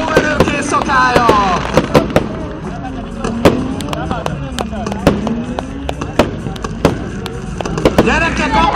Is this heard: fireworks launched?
yes